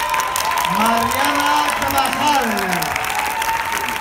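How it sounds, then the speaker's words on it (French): Audience applause fills the hall at a film presentation at Cannes 2019, a steady dense clatter of clapping running throughout while a voice speaks over it. "On commence sous vos applaudissements."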